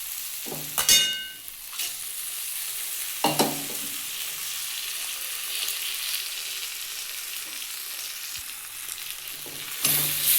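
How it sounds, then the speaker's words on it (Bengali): Soaked red lentils stirred in a frying pan with a spoon, a steady sizzle underneath and a few sharp scraping clatters of the utensil against the pan, close and with no talk. "এটা দিয়ে একটু নাড়িয়ে নিলাম"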